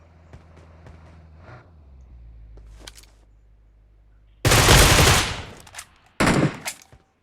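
Gunfire from an AWM sniper rifle in a video game: sparse faint clicks and low rumble, then a loud sustained blast of shooting lasting over a second, a brief gap, and another sharp burst trailing off.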